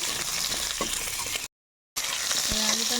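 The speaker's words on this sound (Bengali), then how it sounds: "একটু নাড়াচাড়া দিয়ে নিচ্ছি।" Thinly sliced potatoes sizzle and fry steadily in a pan while being stirred, with a continuous loud crackle broken by a short silent gap and soft scraping sounds.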